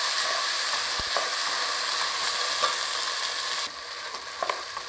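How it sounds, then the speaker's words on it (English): Steady, loud sizzling of washed rice frying in a hot pan for khichdi, a continuous hiss with occasional small pops and scrapes of stirring. "If you fry the rice first."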